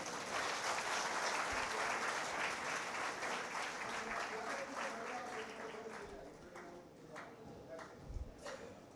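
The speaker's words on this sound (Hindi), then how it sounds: "एक बार जोरदार तालियां तो बनती हैं भाई" Enthusiastic audience applause at a ceremony honouring talented schoolgirls from the Bhopal and Ujjain divisions: dense, steady clapping that gradually thins and fades, with a voice speaking over it toward the end.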